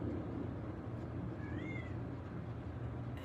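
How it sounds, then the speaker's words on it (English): A single short cat meow rises and falls faintly over a steady background hum, heard from some distance. "And a cat meow"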